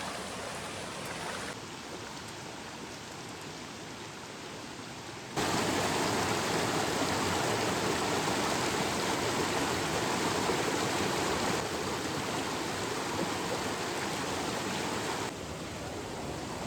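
A river flows through dense forest, giving off a steady broadband rush of water that holds throughout and swells louder partway through, with no voices.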